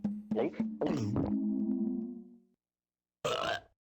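A cartoon character burps after eating fruit in The Neverhood, a clay-animated video game: a long, loud, gurgling burp that stretches into a sustained drone, then a second short, rough burp after a pause.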